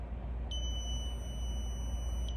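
A multimeter on continuity test emits a steady, pure electronic beep while its probe leads touch together. The tone holds for almost two seconds over a constant background hiss, then stops.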